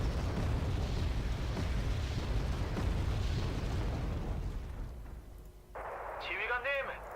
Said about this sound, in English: We are taking fire as usual.